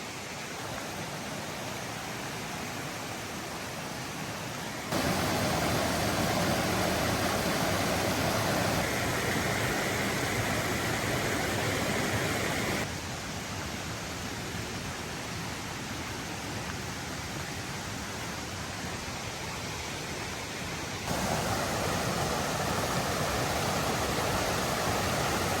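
Big waterfall on the Falls Trail, a loud continuous broadband roar of rushing water that swells and eases slightly in sections as the listener moves, with no talking.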